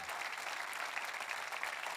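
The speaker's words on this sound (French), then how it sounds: "Est-ce qu'on peut s'applaudir?" Audience applause from a church gathering, steady dense clapping throughout at moderate level with no pauses.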